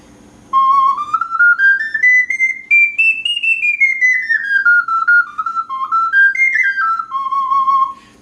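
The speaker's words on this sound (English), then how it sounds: "first I'll just play the soprano C so most people can get an idea of what it sounds like" A soprano C whistle plays a clear, bright melody alone, notes gliding up and down in a continuous, lilting line for several seconds with no other sound.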